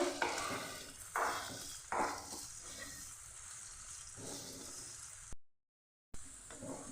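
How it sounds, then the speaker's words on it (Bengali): Potatoes and onions fry together in a pan with a steady sizzle and several stirring scrapes, close and moderately loud, broken by a brief gap of silence. "আলু পেঁয়াজ একসঙ্গে আমি আর একটু দু মিনিট ভেজে নেব পেঁয়াজটা লাল করে ভেজে নিতে হবে"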